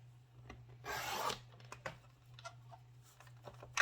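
A strip of cardstock is cut, giving a short, close rasping scrape of about half a second, followed by faint scattered paper rustles and taps over a low steady hum.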